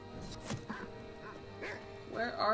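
A dog in a Relics of Hyrule game session barks while under attack, short yips and barks scattered across a few seconds amid other game noises, with quacking-like tones mixed in.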